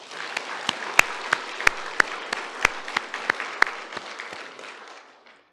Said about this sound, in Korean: 우리의 어린 양 되신 우리 주 예수께 큰 박수 올려드리십시다.